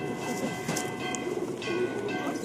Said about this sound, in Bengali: একটা ম্যাড্রাস পায়রা আছে